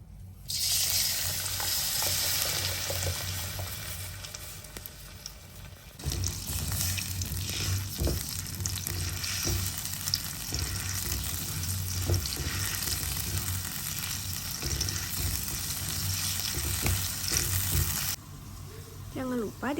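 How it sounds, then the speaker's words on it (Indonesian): Ground spice paste sautéed in a little oil, a steady loud sizzle and frying hiss with occasional stirring, continuing throughout with a brief quieter dip partway. "Setelah halus, kita tumis pakai sedikit minyak."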